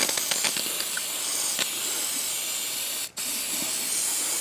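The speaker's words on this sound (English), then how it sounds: "just spray the back of your pads down with it" Spray adhesive hisses from an aerosol can onto the backs of brake pads during a rear brake job on a 2016 Chevy Express van, a loud steady hiss from close by with a brief break near the end.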